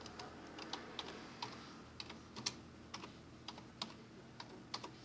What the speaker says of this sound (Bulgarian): Има ви нова клавиатура.